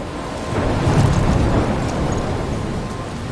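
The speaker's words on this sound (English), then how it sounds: "I'm trapped in a storm?" A thunderstorm in the video game Life Is Strange rolls on as a loud, steady roar of rain and deep rumbling thunder, swelling slightly in the first second and then holding, with no voices.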